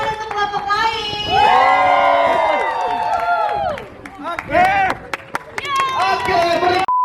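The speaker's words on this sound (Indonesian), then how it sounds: "Tepuk tangan untuk kelompok lain." A crowd of children and adults at an Independence Day community event claps and cheers for a group, loud excited shouts and voices over scattered clapping, with a few sharp claps standing out near the end.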